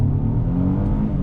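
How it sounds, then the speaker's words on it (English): A 2019 Mercedes-Benz E450 wagon accelerates hard from a dead stop, its engine giving a loud, close, rising drone that holds steady through the short burst. "So we're gonna do, from a dead stop, a little acceleration test here."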